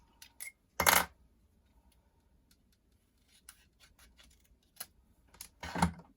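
Scissors snip through a small paper card piece for a handmade greeting card, with a few sharp close clicks and cuts separated by quiet gaps, the loudest near the start and end.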